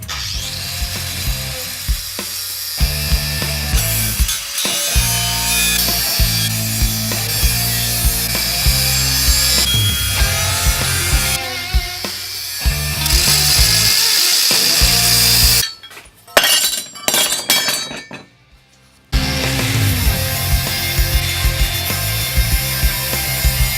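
A go-kart steering column is being cut free for a gravity-racer build, with loud rhythmic rasping strokes of a cutting tool running nearly continuously and a short break partway through.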